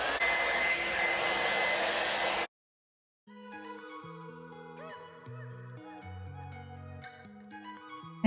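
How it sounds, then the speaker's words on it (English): A blow dryer roars loudly and steadily while drying the hair on a cosmetology mannequin, then cuts off abruptly; after a short silence, quiet background music plays. "We have our blow dryer here."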